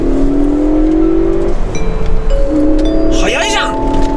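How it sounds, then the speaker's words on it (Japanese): A Ford Focus ST compact car accelerates hard from inside the cabin, its engine pitch climbing steadily through two gear shifts, loud and close under excited talk. "ちょっと加速してみてもいいですか"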